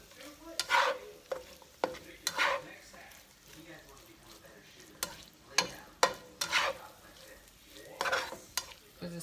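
Shrimp and bell peppers sizzle in a hot skillet on the stove while a utensil scrapes and stirs in repeated strokes, close by, with a voice talking over the cooking at times.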